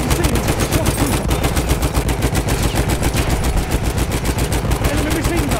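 Fast, steady machine gun fire in Battlefield 1, loud and continuous with evenly spaced rapid shots throughout.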